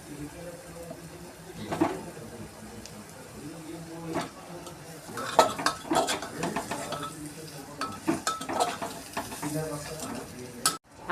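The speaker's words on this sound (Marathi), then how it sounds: "आता आपण कारले टाकून घेऊ." Bitter gourd is stir-fried in oil with ground masala paste in a pan, giving a soft sizzle under repeated scraping and clinking of a spoon against metal, growing busier toward the end.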